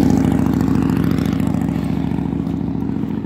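A small motor engine putt-putts steadily and loudly up close while travelling over a rocky path, its pulsing thrum even throughout with no voices.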